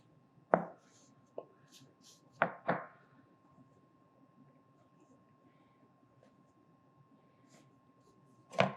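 A knife cuts sweet potato dumpling dough into small cubes on a cutting board, giving four or five sharp, separate thunks with quiet pauses between them.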